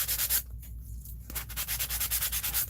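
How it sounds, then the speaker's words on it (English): Sandpaper rubbed by hand in quick, steady back-and-forth strokes to flatten a piece of collage artwork, close and rhythmic with a short pause midway. "Let me see if I can just quickly sand it flat."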